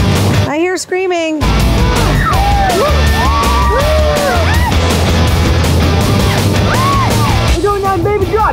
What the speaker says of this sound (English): I hear screaming.